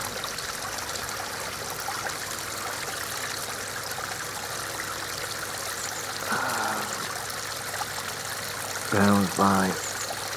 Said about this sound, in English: So there's the waterfall there.